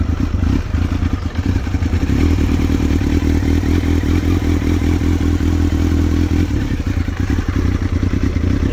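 Cold start of a 1991 Kawasaki ZX7 superbike with about 2,900 miles, its engine settling into a loud, steady low idle with clattery mechanical ticking, running close and alone throughout.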